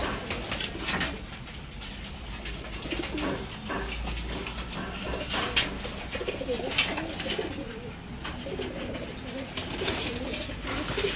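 Pigeons in a kept flock coo continuously at close range, their low rolling calls overlapping, with faint background voices underneath.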